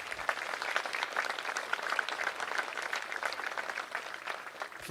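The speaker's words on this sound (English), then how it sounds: "So very big round of applause for Joe and Judith" Audience at an arts and STEAM education center dedication ceremony claps steadily, a dense, moderately quiet round of applause lasting the whole stretch.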